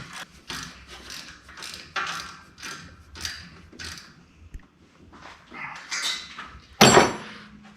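Ratcheting wrench tightening a turbo bolt on a Dodge Cummins diesel, a run of rhythmic mechanical clicks in short bursts, close and moderately loud, ending in a sharper metallic clank.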